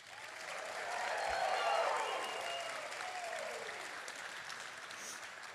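White coat recipients at a health sciences university ceremony clap and shout together, crowd applause swelling to a peak before easing into steady, distant-sounding clapping with cheers.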